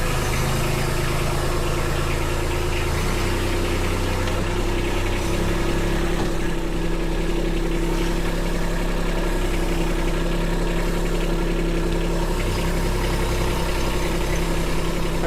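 A Mini Me compact loader's engine runs at high throttle, about 1,200 RPM, holding a steady, close, continuous drone with a deep low rumble and no pauses.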